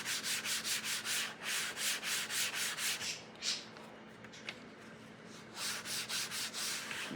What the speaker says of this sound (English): I'm gonna warm it up and rub it against the edge of my desk